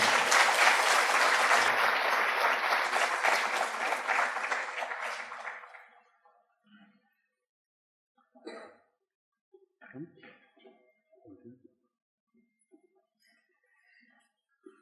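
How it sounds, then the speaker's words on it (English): Dense audience applause greets guests walking onto the stage at a World Mental Health Day event. It fills the first six seconds, then fades into scattered claps, coughs and small room noises. "please join me for a big round of applause as they come in"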